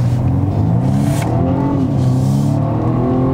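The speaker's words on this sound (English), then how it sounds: "I really want to accelerate out of corners" A 2020 BMW M135i accelerates hard out of a corner on a country road, heard from inside the car as a loud, steady engine drone that rises in pitch through the revs, with no talking.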